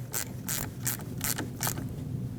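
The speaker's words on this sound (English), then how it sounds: "take a 10mm socket or wrench and tighten this up" Ratcheting 10mm socket wrench tightening the battery terminal nut on a 2005-2021 Nissan Frontier, a close series of about five short, even clicking bursts over a steady low hum.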